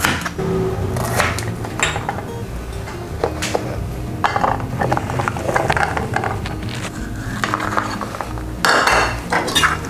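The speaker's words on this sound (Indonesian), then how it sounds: "Kita mau potong-potong lengkuas. Bawang putih dipotong-potong. Bawang merah dipotong-potong." A knife chops galangal, garlic and shallots in a kitchen, giving irregular clattering knocks and clinks of the blade on the board and dishes, busy and close, with no talking.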